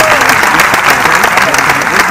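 A film festival audience on opening night applauds loudly and continuously, close and full, with voices and cheers mingled into the clapping.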